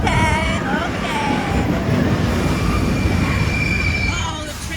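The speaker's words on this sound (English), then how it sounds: "Oh, the train is broken." A train rolls along rails at Disney's Animal Kingdom with loud, continuous rumbling and clatter, and high metallic wheel squeals rising and falling over the noise; a voice is briefly heard.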